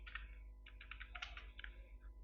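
A short burst of typing on a computer keyboard, quiet and close, with rapid irregular key clicks in two or three quick runs separated by brief pauses, over a low steady hum.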